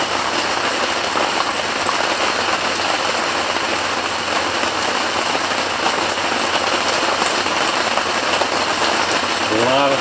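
Steady, dense rain patters loudly and continuously on a hard surface close by, a constant hiss with no pauses.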